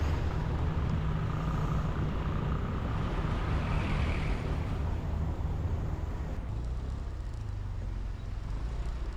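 Stop-and-go traffic jam on the Sitinjau Lauik mountain road, a steady low rumble of idling cars and trucks close by, continuous and even throughout with no talk.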